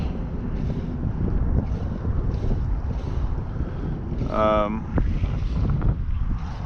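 Steady wind buffets a boat out on Estero Bay, a constant broadband rush with gusty swells close to the microphone, briefly joined by a short whistling tone midway through.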